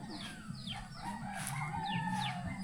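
A rooster crows repeatedly, the rising calls standing out over a steady background of a rural Lao village with water noise and faint birds.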